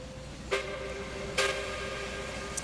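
A steam locomotive in a train simulator game, the Strasburg Camelback No. 4, hums along steadily with two short bright whistle-like bursts and a faint high toot near the end.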